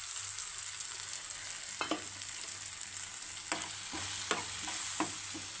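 Coriander and chili powder frying in a pan, a steady close hiss of sizzling oil with several soft scraping strokes of a spoon cutting through it, no voices.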